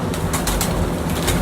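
Sialkoti pigeons coo in a continuous, close, fairly loud stretch, with soft repeated calls over a dense background murmur and no voices.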